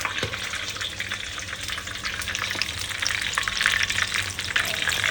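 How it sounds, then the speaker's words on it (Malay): Steady hot-oil sizzling and crackling of chicken frying in a 40 cm Masaki wok, close up, with occasional spits and pops rising toward the end. "next kita goreng ayam"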